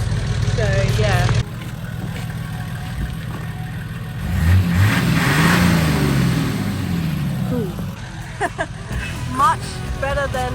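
A project car's engine revs up, swelling to a strong mid-pitched roar and then falling back, with people talking loudly over and around it.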